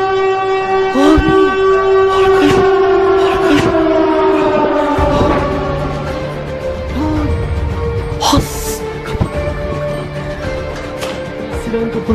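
A siren wails just outside a door, loud and near, with long rising and falling tones that sweep through several cycles, while scattered knocks and bumps sound beneath it.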